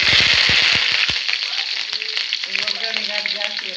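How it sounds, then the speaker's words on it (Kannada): Curry leaves hit hot oil with browned garlic, setting off a quick burst of sharp crackles that settles into a steady loud sizzle, with faint talk underneath. "ಬೆಳ್ಳುಳ್ಳಿ ಕೆಂಪಾದ್ಮೇಲೆ ಕರಿಬೇವು."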